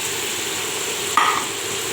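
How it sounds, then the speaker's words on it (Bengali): Washed rice added to spices fried down in a pan for khichuri, a steady sizzle with a brief louder hiss and clatter as the grains land midway, no voices. "এর মধ্যে আমি ধুয়ে রাখা চালটা দিয়ে দেব"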